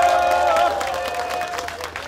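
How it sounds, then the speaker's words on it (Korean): A crowd at a Korean election campaign event in Gwangjin claps to welcome party leader Han Myeong-sook, a brief burst of applause over a sustained tone from the sound system, with some voices mixed in. "환영하고 감사하는 박수 한번 부탁드립니다"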